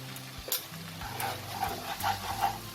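Egg biryani masala being stirred after coriander powder, cumin powder and Kashmiri red chili powder go into the pan, with a soft, continuous scraping and light sizzle at close range, no talking.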